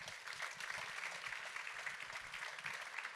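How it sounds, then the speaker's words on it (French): An audience applauds to welcome Xavier Latour at a 2023 conference event, a steady dense clapping from a crowd at moderate distance, continuous and fairly soft throughout with no voices over it. "Sous vos applaudissements"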